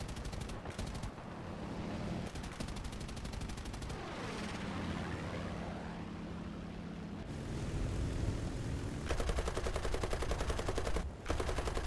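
Rapid, dense machine gun fire in the War Thunder video game at low battle rating over Eastern Europe: long continuous bursts with brief pauses, growing louder toward the end over a steady engine drone.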